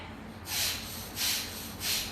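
Bhastrika yoga breathing, with three forceful, rhythmic exhales pushed out through the nostrils. The puffs are close, breathy and evenly spaced, with nothing else in between.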